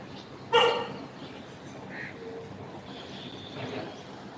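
A dog lets out one sharp, loud bark near the start as a yogurt seller arrives at the house, followed by a quiet stretch with faint background noise.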